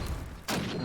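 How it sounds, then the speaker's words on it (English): Grenades burst in a shooter video game match, a muffled low thump giving way to a loud, sustained explosive roar with crackling debris filling the second half. "the nade bombardment continues"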